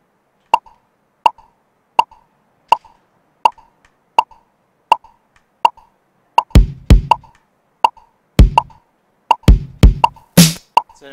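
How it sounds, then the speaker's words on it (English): Steady electronic clicks from a metronome-style pulse, then kick and snare hits from a sequencer app tapped in by hand join in. The hits are loud, close and punchy over the regular beat, with no talking. "the percussion up here that you see is actually just tap to play. You can hear it now"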